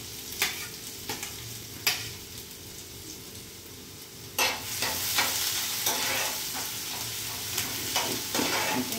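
Finely grated ginger, garlic and green chili sautéing with asafoetida in hot oil for padval bhaji, steady sizzling under repeated spoon scrapes against the pan, the frying growing louder and fuller halfway through, no speech.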